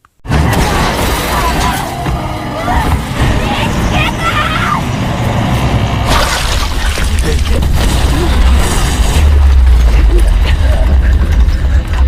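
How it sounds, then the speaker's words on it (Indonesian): A loud, sustained explosion blast from the anime Attack on Titan, rumbling with crackling debris and heavy low-end roar, running continuously over the whole stretch with some voices mixed in. "Dan ya, ledakan pun terjadi."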